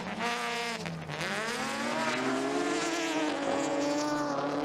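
Rallycross race cars with three quite different engines roar around the track in a Rednek Rallycross event, their engine notes sweeping up and down in pitch as several cars accelerate and pass, loud and close.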